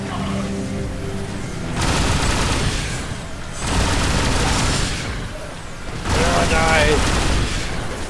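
Bursts of rapid automatic gunfire and booms in the shooter game The Bureau, three loud sustained volleys separated by short quieter gaps, with faint voices between.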